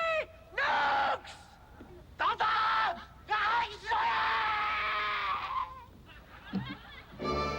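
Contestants in a Japanese screaming contest let out a string of loud, strained yells and hoarse shouts in quick bursts, some honking and groan-like, with short gaps between them.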